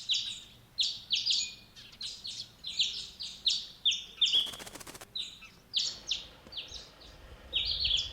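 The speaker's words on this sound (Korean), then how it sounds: "기와지붕 마루에 참새들이 앉아 지저귀다" Sparrows perched on a tiled roof ridge in a Korean village after rain chirp busily in a steady stream of short, bright calls, with a brief burst of wing flutter in the middle.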